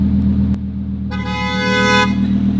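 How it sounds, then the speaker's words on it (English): A car horn honks in one steady blast of about a second over the constant hum of a car interior, with the engine drone running underneath throughout. "so she honks"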